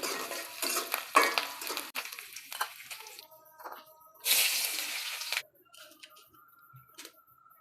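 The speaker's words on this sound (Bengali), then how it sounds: "এখন রসুনটা ভেজে দিচ্ছি।" Garlic frying in a pan, heard as clattering stirring and utensil knocks with a short burst of sizzling midway, then quieter scattered clinks.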